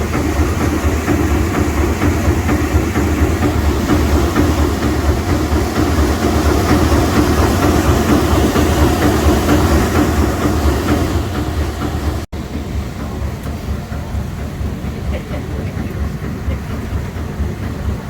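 The low-pressure triple expansion steam engine of the Sir Walter Scott steamboat on Loch Katrine, Scotland, gives a loud, steady mechanical rumble and rhythmic clatter throughout, with a slight change in tone partway through.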